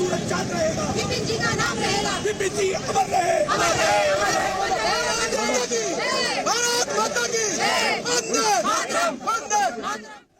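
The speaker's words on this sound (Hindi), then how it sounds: "इस भीड़ के बीच एक नारा लगातार गूंज रहा था और वो था, जब तक सूरज चांद रहेगा बिपिन रावत का नाम रहेगा" A large crowd at General Bipin Rawat's funeral procession chants a slogan again and again, loud and continuous, with many voices rising and falling together and traffic noise underneath.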